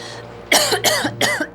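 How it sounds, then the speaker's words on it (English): Three quick, harsh coughs in a row, close by and fairly loud, following a brief quiet moment. "As I sat down, the first thing I started to do was cough."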